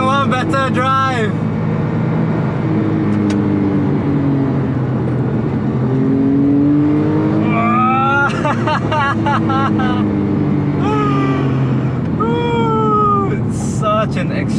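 A Porsche 911 Carrera 997.2 with its 3.8L naturally aspirated engine, driven on roads in Penang, heard close and loud with a steady drone and several rising and falling rev sweeps.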